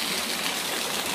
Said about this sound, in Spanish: Y este es de agua caliente.